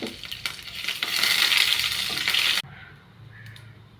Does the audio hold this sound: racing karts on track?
no